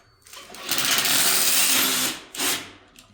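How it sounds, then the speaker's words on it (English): A power drill boring holes into an 8x8 wooden post, a loud close whine running steadily for over a second, then a brief second burst after a short pause. "Got the holes drilled out."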